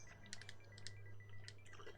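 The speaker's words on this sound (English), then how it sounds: "You can hear ferocious typing." Fast typing on a computer keyboard sounds as quick, light clicky taps in irregular bursts, fairly faint over a low hum, with no talk.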